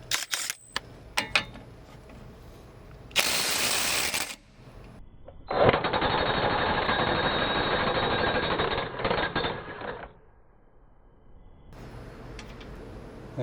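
A DeWalt DCF922 cordless impact wrench loosening a drive shaft nut, with a short loud buzzing burst followed by a longer sustained hammering whir of several seconds, then quiet and a faint later rattle.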